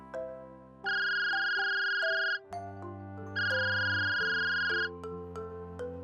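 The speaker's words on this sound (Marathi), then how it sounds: "त्याच्या फोनची रिंग वाजली" A mobile phone ringtone plays a bright electronic melody in two repeated bursts, loud and close, with a sustained tone underneath and no talking.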